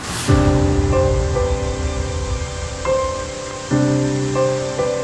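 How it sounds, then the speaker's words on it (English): Lower DeCew Falls, a waterfall hidden deep in the woods downstream of Upper DeCew Falls near St. Catharines, Ontario, gives a steady, dense rushing roar throughout, with sustained musical tones layered over it and no talking. "Lower DeCew Falls is located just downstream of Upper DeCew Falls, hidden thick in the woods"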